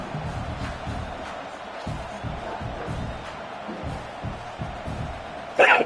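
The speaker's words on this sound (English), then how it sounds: "The roar of the crowd trying to fuel this defense to keep them pinned in their own end" A stadium crowd at an American football game roars as it urges on the home defense, a broad, sustained wall of noise under a commentator's talk, swelling into a louder burst right at the end.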